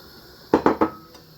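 Chopped onions and crayfish tipped into a pot of okra (okoro) soup, giving three quick clattering thumps in close succession against the pot, near and fairly loud, then quiet.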